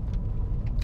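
A car driving over a bumpy, potholed dirt road full of puddles gives a steady low rumble and road noise heard from inside, with faint rattles near the end.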